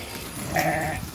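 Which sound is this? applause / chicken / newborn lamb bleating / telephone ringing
newborn lamb bleating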